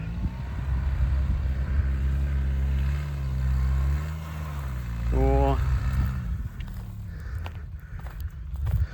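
A car strains to climb a sloped farm field, its engine droning low and loud, then revving up briefly midway before easing off, with voices over it.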